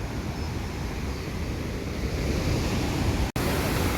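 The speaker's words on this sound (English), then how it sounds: "this is a beautiful waterfalls" Mountain waterfall near Barshani on the trek down from Kheerganga, a constant loud roaring rush of water close by, steady with no speech.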